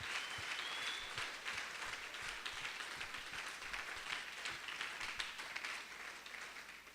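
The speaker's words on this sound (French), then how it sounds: "Acclamons fortement le Seigneur." A church congregation applauds loudly and steadily, dense continuous clapping filling the room with no pause for several seconds during a praise celebration.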